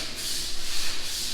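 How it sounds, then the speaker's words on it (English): Sanding a wooden door frame on a house build site produces a steady, close abrasive rubbing hiss with slight rhythmic surges as the sander moves back and forth. "we're still working on sanding the front door and sanding the other doors."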